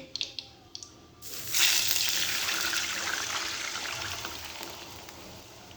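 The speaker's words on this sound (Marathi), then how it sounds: "आपलं तेल गरम झालंय आपण पाणी टाकूया" Water poured into hot oil in a kadhai while making steamed wheat-flour laddus, starting with a few light clinks, then a loud sudden surge of hissing, sputtering spatter that slowly fades but keeps crackling steadily to the end.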